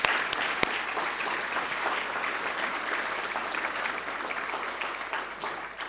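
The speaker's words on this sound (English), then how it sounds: "Can you give them all a big round of applause?" Sustained audience applause at a volunteering conference session, a dense steady wash of clapping hands filling the room for several seconds, with no talk over it.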